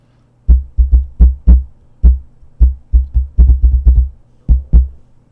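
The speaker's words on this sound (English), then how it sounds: "I'm just going to tap the microphone" A series of close, thumping taps on a condenser microphone with a low, boomy body, struck in irregular groups and bursts, each dying away quickly.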